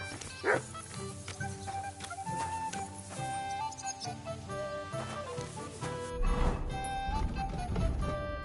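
A dog in the medieval video game Kingdom Come Deliverance 2 gives a few short yips and barks over background game music and ambience, fairly quiet and intermittent.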